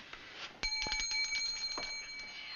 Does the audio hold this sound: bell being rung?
yes